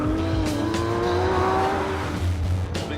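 A Porsche 911 GT3 RS with its rear-mounted engine is driven hard through corners with driver aids off. The engine roars loudly and steadily as it revs, and tires squeal faintly, with no talking.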